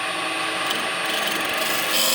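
Bowl gouge cuts the outside of a wooden hollow form spinning on a lathe, a continuous close, hissing, scraping rasp with slight rhythmic flutter throughout.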